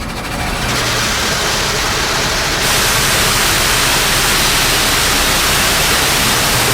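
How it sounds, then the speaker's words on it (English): An automatic car wash sprays a Mustang: loud, continuous rushing hiss of water jets that jumps in intensity partway through and stays strong to the end. "Here I go into the car wash."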